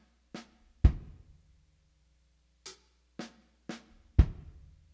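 Slow linear drum groove played one hit at a time across hi-hat, snare and kick, with six separate close, crisp strikes spaced apart and ringing briefly into silence.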